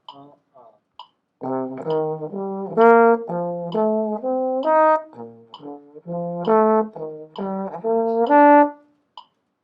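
A trombone plays quick rising and falling arpeggios of dominant, minor and major seventh chords, notes stepping up and down in phrases separated by short breaths, clear and close.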